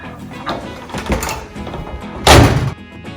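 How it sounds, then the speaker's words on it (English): A microwave oven door thunks shut with a cup of water inside, one solid thud after softer handling noises, close by. "Now I'm going to put it in the microwave."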